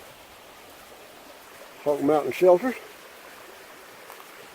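A mountain stream behind a trail shelter on the Appalachian Trail gives a soft, steady rushing hiss throughout, briefly interrupted by a person speaking a few words.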